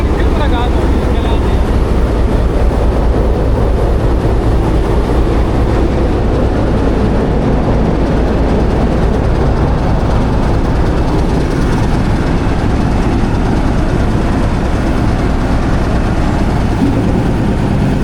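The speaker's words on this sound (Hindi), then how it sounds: "सेकंड डिपार्चर विसल के साथ ट्रेन मूव होगी आगे अपनी" Millat Express passenger train rolling out of the station after the departure whistle, a continuous loud low rumble of wheels and carriages running steadily throughout, with faint voices mixed in.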